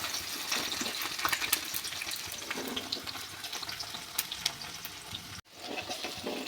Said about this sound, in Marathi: तेल तापलेलं आहे. कांदा टाकायचा